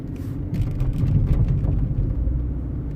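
A Mercedes W203 C-Class drives along a main road with a steady low engine drone swelling slightly as it pulls through the gears, close and continuous without talk.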